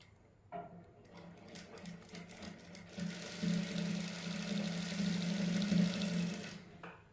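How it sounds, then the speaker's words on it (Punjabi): A sewing machine stitches mesh lace onto a sleeve, its close, rapid mechanical hum building gradually and running steadily for several seconds before fading out. "ਨਾਲ ਨਾਲ ਸਲਾਈ ਲਾਉਂਦੇ ਜਾਣਾ"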